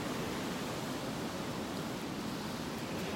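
Steady ocean surf rolling onto a Gulf beach in North Naples, Florida, heard as an even, continuous wash of broadband noise throughout, with no voices.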